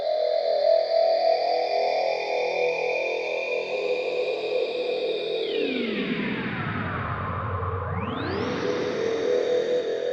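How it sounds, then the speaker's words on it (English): A low-passed wavetable synth drenched in a huge FutureVerb reverb holds steady tones, then sweeps smoothly down into a deep rumble and rises back up, a wide washy tail lingering throughout with no voices. "if I'll add like a really big reverb, like from the future verb in here"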